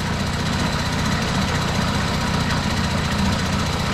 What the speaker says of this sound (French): le moteur tourne plutôt rond